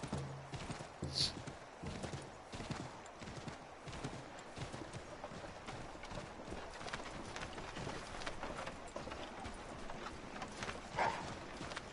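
Horse hooves clip-clop steadily in Assassin's Creed III Remastered, a continuous trotting rhythm over a constant background wash, at moderate level and without any voice.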